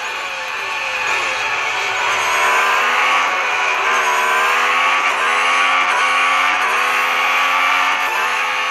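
An F1 racing car in the mobile game Real Racing 3 accelerating hard: a loud, continuous whining engine that climbs in pitch through repeated gear shifts for the whole stretch, with no speech.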